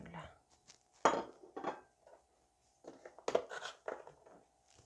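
A cooking pot is handled during borscht preparation with bone-in meat going in: scattered clinks and knocks of metal pot and utensils, close and moderately loud, separated by quiet gaps.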